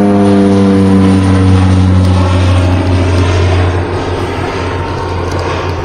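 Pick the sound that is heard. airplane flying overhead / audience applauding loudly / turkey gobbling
airplane flying overhead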